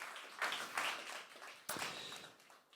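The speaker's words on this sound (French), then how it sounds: "On peut encore les applaudir s'il vous plaît." A conference audience claps in uneven bursts, swelling and fading, with a sharp renewed surge partway through before the applause tapers off toward the end.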